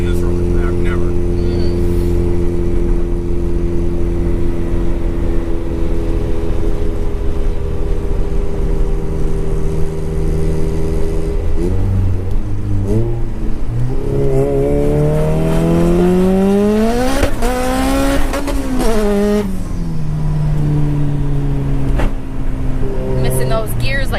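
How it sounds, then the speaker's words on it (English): A turbocharged Honda GSR engine drones loudly inside a moving car, then climbs through the gears in rising revs, with one pull reaching the rev limiter before dropping back. Talking from the car's occupants runs underneath. "it actually shredded to the rev limiter there for a second"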